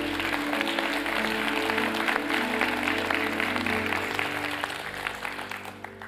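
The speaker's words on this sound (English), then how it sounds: "Let's give the Lord a hand clap this morning." Church congregation clapping hands together, a full, sustained burst of applause over a low musical drone, loud and even before tapering off toward the end.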